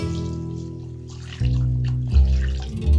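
Water runs and splashes into a vessel of basmati rice set to soak for mutton biryani, a close, steady pour that swells in a few surges.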